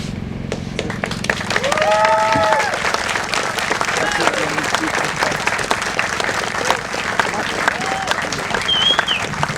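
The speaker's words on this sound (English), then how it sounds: "Can we have another round of applause for our students, please?" A large crowd at a town's 250th anniversary celebration applauds steadily and loudly throughout, with whistles and cheers rising through the dense clapping.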